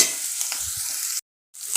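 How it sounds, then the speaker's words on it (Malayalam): Ginger and garlic fry in a pan with a steady, close hiss and a few low stirring knocks, cutting off abruptly for a moment before the sizzle resumes. "ഇപ്പോൾ അത് കൂട്ടുകാരെ ഇഞ്ചിയും വെളുത്തുള്ളിയൊക്കെ നല്ലോണം വഴഞ്ഞ് വന്നിട്ടുണ്ട്"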